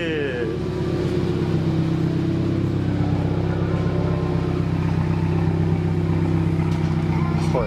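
A 2019 Subaru WRX fitted with a big turbo runs with a deep, growly engine note, holding a steady loud drone close by with slight rises in pitch, while a voice talks near it.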